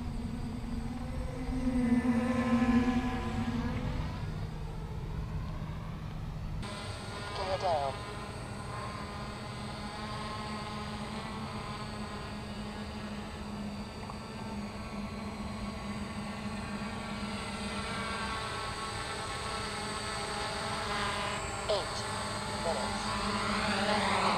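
A DJI F450 quadcopter with retractable landing gear flies overhead, its rotors giving a steady, buzzing whine that shifts slightly in pitch while a person talks over it throughout.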